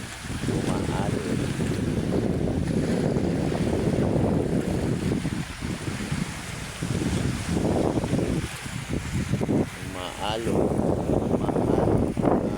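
Rough water and waves churn steadily in Manila Bay under heavy wind buffeting the microphone, with a boat's drone and occasional voices in the background.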